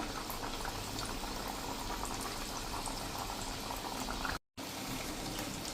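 Ajwain mathri deep-frying in hot oil over a slow flame, a steady, dense bubbling sizzle that stays even and close throughout, broken only by a brief dropout near the end.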